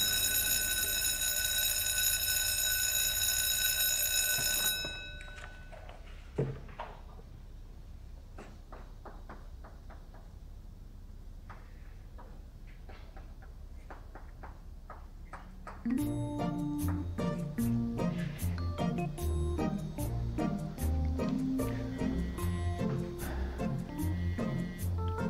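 A phone rings on and on without being picked up, starting as a loud, steady electronic tone that cuts off after a few seconds. Sparse faint clicks follow, then a dense musical passage comes in.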